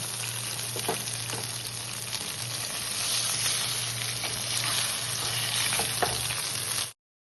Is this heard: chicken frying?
yes